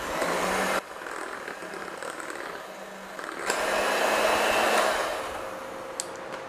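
Electric hand mixer beating lemon loaf batter with lemon zest, a steady close motor whir that runs continuously, briefly cutting and restarting as the beaters work through the mix.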